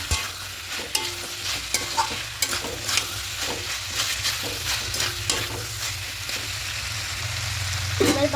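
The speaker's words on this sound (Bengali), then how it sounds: "এবার ভেজে রাখা আলুগুলো এখানে দিয়ে দেবো দিয়ে সব কিছু খুব ভালো করে মিশিয়ে নেবো" Fried potatoes are stirred into a chicken and cabbage curry in a pan, with repeated close spatula scrapes and knocks over a steady frying sizzle.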